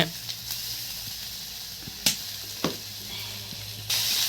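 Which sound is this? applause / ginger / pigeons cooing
ginger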